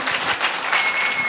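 A church congregation breaks into brief, dense, close applause, a steady burst of many hands clapping.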